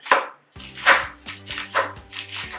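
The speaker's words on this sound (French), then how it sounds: "j'aime bien avoir les oignons en rondelles" A knife chops onions into rings on a cutting board, several close, crisp strikes spaced unevenly over about two seconds, each with a short scraping tail, and no one speaks.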